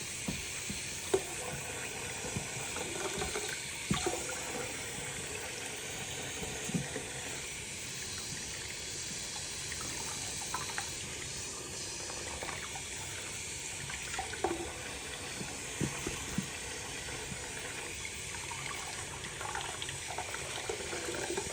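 Tap water runs steadily from a faucet while a baby doll's head is rinsed, a continuous hissing splash at moderate level with small irregular spatters and knocks, and no voices.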